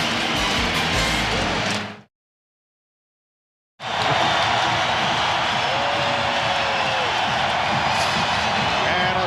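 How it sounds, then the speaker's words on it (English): A Chicago Bulls home crowd at the 1996 NBA Finals Game 6 against the Seattle SuperSonics gives a standing ovation: a loud, sustained arena roar and cheering that cuts out briefly, then swells back at full strength. "Standing ovation again from this Chicago crowd"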